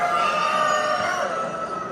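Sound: Denizli rooster crowing

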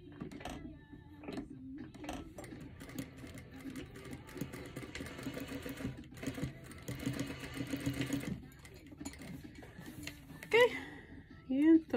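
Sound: sewing machine stitching a shirt sleeve

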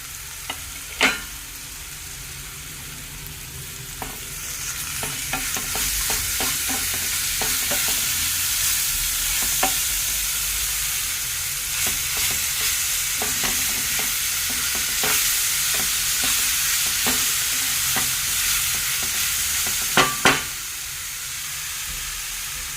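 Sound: ginger garlic and green chili frying

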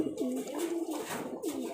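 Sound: Rajshahi highflyer pigeon cooing

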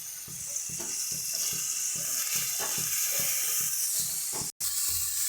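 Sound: prawns with turmeric and salt frying in oil

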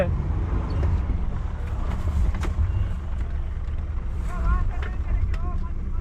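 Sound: car driving down a snowy slope

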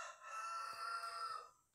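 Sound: rooster crowing

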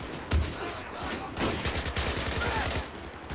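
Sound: gunfire in video game Battlefield 4

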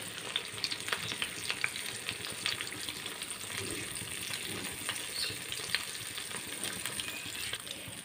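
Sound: unniyappam batter frying in hot oil

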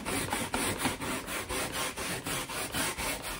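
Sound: scrubbing a stained area by hand with a brush

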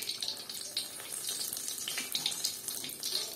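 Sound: draining water from cooked Richeese cheese noodles

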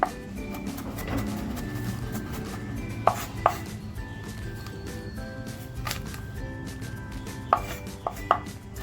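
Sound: chopping garlic finely with a knife

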